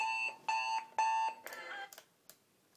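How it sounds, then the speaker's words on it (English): An alarm clock rings in three sharp, evenly spaced electronic bursts, then sputters into a few shorter broken beeps before falling silent. "turn off my alarm clock."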